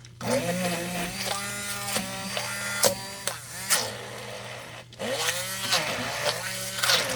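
An electric stick blender whirs through thick handmade cream soap in a loud, uneven motor drone with shifting pitch, brief dips and restarts as it churns.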